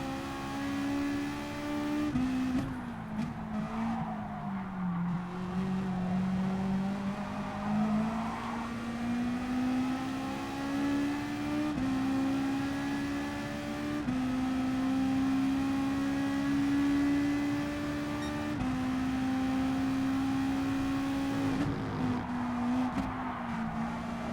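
A race car engine in a Gran Turismo Sport online race roars in a steady, loud drone, its pitch climbing and dropping through gear changes with tire noise over about twenty seconds, with no talking.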